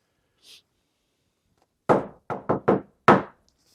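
Five knocks rap on a hard surface in an empty hospital operating room during a paranormal knocking game: a single knock, a quick run of three, then one more, loud and close in near silence.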